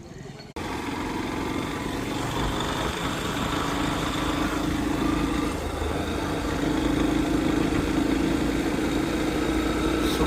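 A motorcycle engine drones steadily during a ride along a narrow single-lane road near Nashik, loud and continuous with wind noise, the hum rising slightly toward the end.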